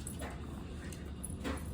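A dog whimpers and whines faintly during a game of tug, soft intermittent cries close by under steady background noise.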